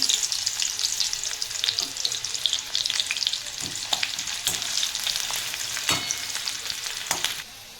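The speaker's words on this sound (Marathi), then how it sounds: "तेल गरम झालं आहे आपलं आणि कांदा घालून घेतला" Steady crackling sizzle of onions frying in hot oil in a wok, continuous and close, with occasional sharper pops and scrapes of stirring.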